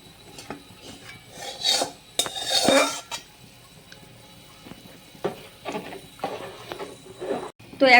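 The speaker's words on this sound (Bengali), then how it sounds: "আর এখন আমি কষিয়ে রাখা সবজিগুলোও দিয়ে দেবো।" Sautéed vegetables go into a pot of boiling rice and two kinds of lentils for khichuri, with clattering metal pot and spoon sounds, scraping and stirring in irregular bursts separated by quieter moments.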